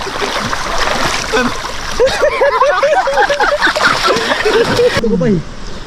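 Splashing in the sea at night on a beach overnight trip, close sloshing and water movement throughout, with excited voices and shouts mixed in.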